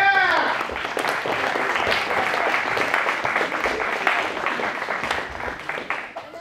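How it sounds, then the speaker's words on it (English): A crowd at a cosplay wrestling show breaks into sustained applause, dense and steady, with cheering voices mixed in at first and fading slightly toward the end. "Give them a round of applause"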